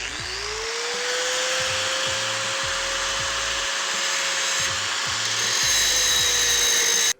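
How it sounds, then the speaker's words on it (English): An angle grinder spins up and grinds a metal crossbar for a BMW F800GS motorcycle, a loud steady high whine held throughout, with rhythmic low rubbing pulses as the disc bites the workpiece. "So for the solid one, I'm gonna use an angle grinder."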